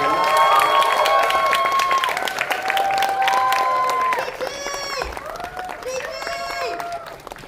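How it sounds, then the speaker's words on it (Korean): Audience at a Korean film guest screening applauds to welcome guests, a broad steady patter that thins out over several seconds while a voice speaks over it. "박수로 맞이해주세요"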